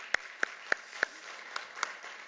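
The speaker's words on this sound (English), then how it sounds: "Let's give them a little round of applause." A few scattered hand claps at a gender violence panel event, about six sharp isolated claps spaced roughly half a second apart, faint and thin rather than a full round of applause.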